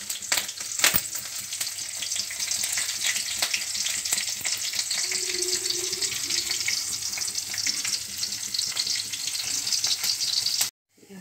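Garlic-ginger paste, spices and green chilies frying in a pan for a homestyle Indian dish, a dense continuous sizzle with a few sharp stirring clicks, stopping abruptly at the end.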